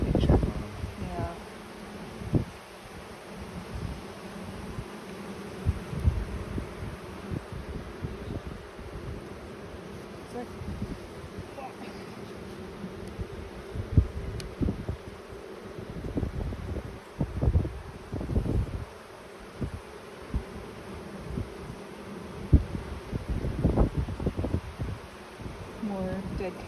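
Honey bees buzz around an opened, agitated hive during an inspection, a steady close drone with rustling and handling bumps, and a person speaks now and then over it.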